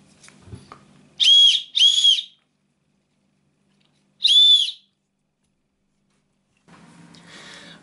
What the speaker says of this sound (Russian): свистит он хотя бы нормально.